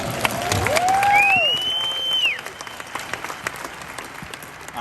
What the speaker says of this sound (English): Can everybody give Ty a round of applause?